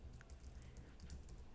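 Fast clicking of keys on a computer keyboard while a Linux shell command is typed, steady close taps with no talking.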